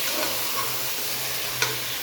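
Chicken pieces frying in a pan and being stirred, a dense continuous close sizzle with a soft scrape of the spatula near the end, no talking.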